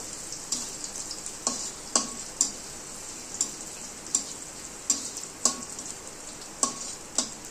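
Onion frying with garlic and ginger paste in a pan, a soft continuous sizzle broken by regular spatula strokes knocking and scraping about every half second, fairly quiet with no talk.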